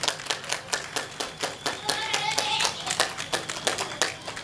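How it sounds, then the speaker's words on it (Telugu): Audience clapping at a health talk in Telugu, a loose scattering of individual hand claps building into uneven rhythmic applause, fairly close and moderately loud. "చప్పట్లు కొట్టండి అయ్యా బాబు"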